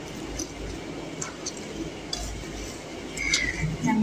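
Kebab ingredients for shami kabab, seasoned with coriander powder, are stirred together in a dish, giving soft scraping and light clinks of utensil against the bowl, steady and close, with no voices.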